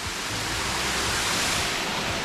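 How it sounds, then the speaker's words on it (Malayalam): Man-made waterfall in a rock garden, a steady, full broadband rush of falling water, close and continuous without pauses or voices. "വെള്ളച്ചാട്ടവും എന്തൊരു ഭംഗിയാണ്"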